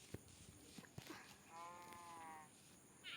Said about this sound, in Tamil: அங்கே ஒரு மாடு